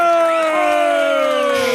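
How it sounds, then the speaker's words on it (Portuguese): An audience applauds and cheers in a hall, with steady dense clapping and whoops under a host's amplified voice for honoured police officers. "Palmas para o delegado Nico e a delegada Lisândria Salvariego."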